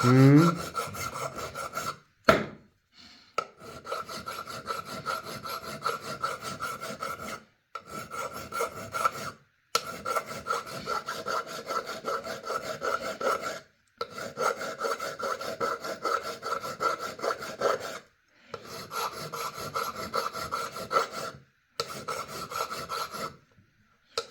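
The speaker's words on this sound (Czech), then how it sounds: "já pak používám ten drážkovací pilník" Steady rasping of a grooving file worked back and forth on wood while making a habaki for a Japanese sword, repeated strokes in bursts separated by short pauses, close and fairly loud.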